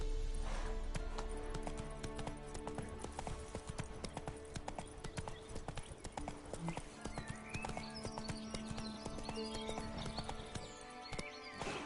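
Hooves of Roach, a horse in The Witcher, clip-clop at a steady gallop close by, running without a break and layered over a bed of ambient game sound, with an occasional whinny breaking through.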